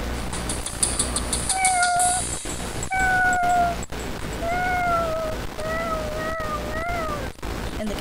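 Cat meowing several times in a row, a sequence of short, clear, rising meows close by over a steady background rumble and occasional sharp clicks.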